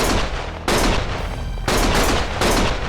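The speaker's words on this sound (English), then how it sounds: "Stop shooting!" Bursts of heavy automatic gunfire in the action game Lost Judgment, three loud sustained volleys separated by brief pauses, with no talk.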